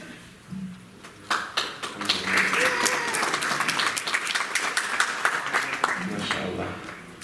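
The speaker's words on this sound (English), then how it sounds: "So now that we've clapped, takbir." An audience applauds at a spoken-word event, the clapping rising suddenly after a quiet moment with a brief voice and holding steady with sharp individual claps for several seconds.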